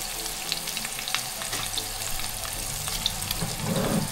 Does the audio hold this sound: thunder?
no